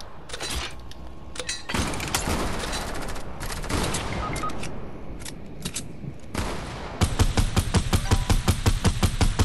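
Rapid bursts of gunfire from the video game Fortnite, loud and dense, with continuous firing through the middle and a faster, sharper string of shots near the end.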